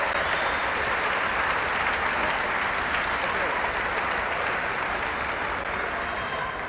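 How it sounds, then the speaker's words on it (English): A crowd at a 1993 men's college basketball game applauds student athletes steadily, a dense, sustained wash of clapping that keeps going throughout at an even level. "Let's have one nice round of applause for these terrific student athletes."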